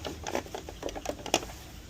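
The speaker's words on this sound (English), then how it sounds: "I'm going to pin it and then take it to the sewing machine." Sewing machine stitching the seam of a baby Mandrake costume, quick uneven bursts of mechanical clicking and whirring at close range, fairly quiet, with no voices.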